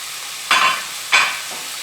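Chicken is added back into a hot pan and stir-fried, giving two sharp bursts of sizzling that fade quickly, with a fainter third hiss after them, close and loud, with no talk.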